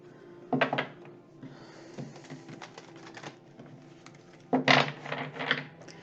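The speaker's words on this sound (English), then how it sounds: "Give this a good shuffle." Close-up shuffling of a deck of cards: two louder, brisk riffling bursts with softer papery shuffling and light tapping in between, no voices.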